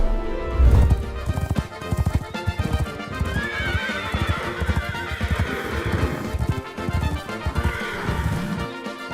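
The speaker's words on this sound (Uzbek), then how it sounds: "Qiziq, ponilar nega kichkina? Ular ham haqiqiy otlarmi?" A pony neighs loudly up close, its whinny rising and wavering, while hooves clop in a quick uneven rhythm throughout with a heavy thump near the start.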